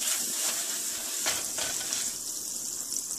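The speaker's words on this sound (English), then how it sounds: "So I am just putting this two buns over here on this tawa. It's really hot." Two buns sizzle and fry in butter on a very hot tawa, a steady close hiss filling the whole stretch with no talking.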